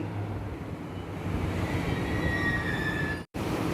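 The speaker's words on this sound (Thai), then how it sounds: "เดินทางด้วยรถไฟฟ้า BTS ไปลงที่สถานีเคหะ บรรยากาศบนสถานีเคหะ" A BTS Skytrain rumbles steadily at an elevated station in Samut Prakan with a high metallic wheel squeal, then a brief dropout before the rumble continues.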